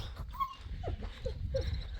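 A dog whimpers in a few short, high, thin whines with brief pauses between them, close by and fairly quiet.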